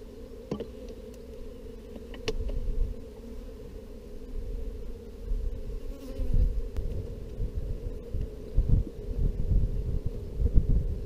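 Honeybees hum steadily from an opened hive during an artificial swarm split, a dense, close, continuous drone with occasional louder passes from individual bees near the frame.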